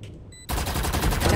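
Rapid automatic gunfire bursts out abruptly in a tactical shooter video game, a dense, loud rattling stream of shots after a brief quiet moment with a short electronic beep.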